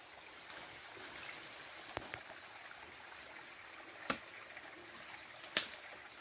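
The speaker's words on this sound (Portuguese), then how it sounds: "Barulho da água" Water from a spring trickles softly in a steady, faint flow, broken by three sharp clicks or taps.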